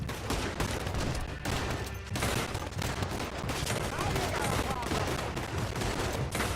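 Rapid volleys of gunfire from Red Dead Redemption 2 crackle continuously, dense overlapping shots close and loud, with a voice speaking faintly in the mix.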